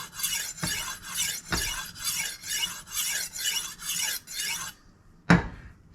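Knife honed with a Tumbler rolling sharpener: a run of even rasping strokes in a regular rhythm, close and fairly loud, then a pause and one sharp clack.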